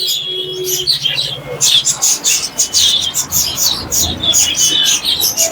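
Cockatiels and other caged birds at a busy bird market give sharp repeated chirps and whistles, loud and close, over a low murmur of the crowd.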